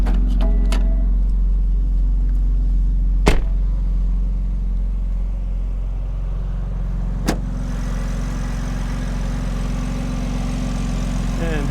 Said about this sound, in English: And you can hear in the back, with the valves open, even the idle is just incredibly aggressive.